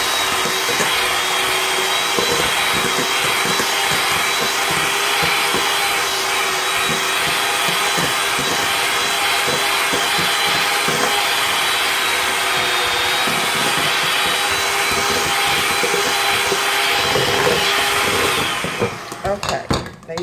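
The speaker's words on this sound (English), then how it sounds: "let's cream the butter" An electric mixer creams butter for a chocolate pound cake, a steady whirring motor hum with rattling bowl noise running continuously, then cutting off near the end.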